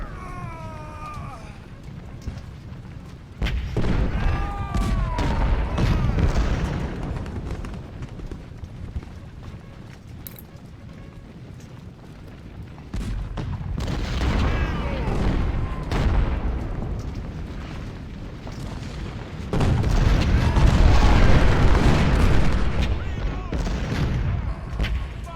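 Cannon artillery booms and rumbles across the Chancellorsville battle in Ultimate General: Civil War. The fire rolls in three heavy swells of dense, overlapping blasts, with quieter stretches between them.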